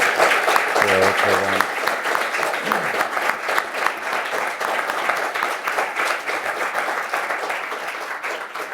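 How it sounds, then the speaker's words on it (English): An audience applauds the panelists at a symposium on de-globalization, with sustained dense clapping from a crowd and a brief tone or voice near the start. "give a round of applause for them"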